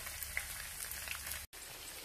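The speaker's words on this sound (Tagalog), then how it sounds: "Start na ako mag-fry ng tokwa." Tofu (tokwa) frying in a pan gives a steady, soft crackling sizzle, fairly faint and continuous, with a brief drop-out near the middle and no talking.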